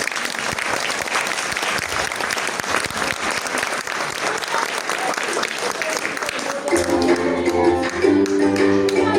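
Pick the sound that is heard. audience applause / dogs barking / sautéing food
audience applause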